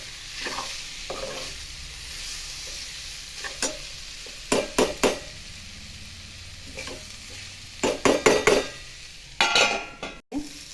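Leftover roti snack being stirred and cooked in a pan, with scattered scraping and clattering bursts against a soft background sizzle, the heaviest clusters coming near the middle and end.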